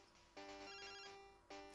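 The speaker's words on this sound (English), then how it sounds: "Uh-oh. Phone call from Prof." A phone ringing in the Pokémon Silver video game on 3DS, a chiptune ring tone in two bursts with a brief gap between them, faint and playing alone.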